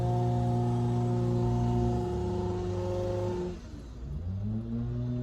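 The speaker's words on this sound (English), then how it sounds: "the weed whacker guy decided to walk up right next to my car" A weed whacker's small engine whines loudly at a steady pitch right beside a parked car, then drops off and revs back up near the end.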